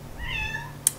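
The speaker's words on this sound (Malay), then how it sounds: "Apa miau-miau?" A single short cat meow, fairly close and clear, rising then falling, followed by a brief sharp click.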